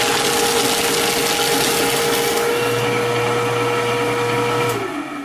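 A Fellowes Powershred 225Ci crosscut paper shredder grinds through a thick stack of paper with a loud, steady whirring motor drone that deepens under load, then winds down at the end.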